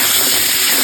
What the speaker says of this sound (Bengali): এখন পটলগুলো ভেজে নেব। পটল দিয়ে দিলাম।